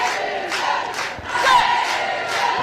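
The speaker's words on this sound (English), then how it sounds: "You can hear the cheer of Alele Bleu going up from the fans." Fans at an England versus France under-20 women's rugby match roar and chant for France in a stadium, the crowd noise swelling in rhythmic surges about twice a second.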